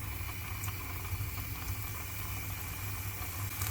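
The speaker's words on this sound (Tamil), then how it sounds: "இப்போ இந்த மாதிரி நல்லா சூடான எண்ணெயில் ஒன்று ஒன்றா சேர்த்துக்கோங்க." Soya chunks (meal maker) being dropped one at a time into hot oil for a Soya 65 snack fry, giving a steady, continuous bubbling fry with a low rumble and no voices throughout.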